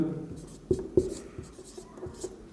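Pen scratching on paper while a math problem is written out, a series of soft, close strokes and taps in a quiet room with faint background hum.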